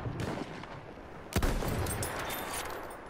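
Rifle fire in the video game Battlefield 1, a single sharp shot cracking over a dense bed of distant battlefield noise and scattered gunfire, no voices.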